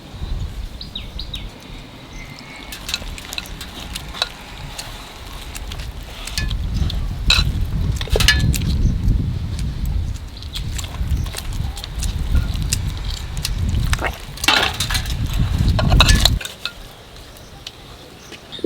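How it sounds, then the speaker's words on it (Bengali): Gram flour (besan) batter for beguni being mixed, a continuous wet stirring and slapping that grows louder in the middle and then stops, with light clinks and faint birdsong behind. "বেগুনি বানানোর জন্য বেসনটা গুলিয়ে নেব।"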